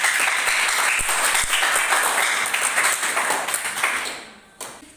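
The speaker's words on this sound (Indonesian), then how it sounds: "terima kasih kepada kelompok 1. Berikan tepuk tangan" Classmates clap for a presenting group in a classroom, a brisk burst of many hands that stays lively, then thins and fades out near the end, with one last clap.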